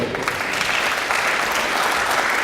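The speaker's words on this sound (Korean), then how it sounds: "여러분들 박수 한번 주시면" Steady, dense applause fills a lecture hall from a seated audience at a talk on brand design, even and continuous without a break, with no voices over it.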